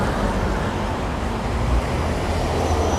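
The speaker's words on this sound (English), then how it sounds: "South Willard Street is noisy and full of traffic at all hours of the day" Dense, continuous roar of passing cars on busy South Willard Street in Burlington, Vermont, a loud low rumble with small swells as vehicles go by, no voices.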